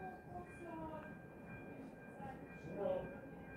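A work train rumbles past outdoors on a railway line, a faint, steady low roar with a thin tonal whine above it that swells slightly toward the end.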